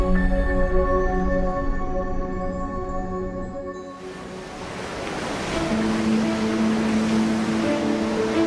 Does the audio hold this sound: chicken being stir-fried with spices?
no